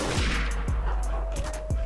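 Gunfire in the Garry's Mod sandbox game crackles in a dense, continuous burst of rapid shots with repeated heavier thumps, loud and close, with a faint steady tone running underneath.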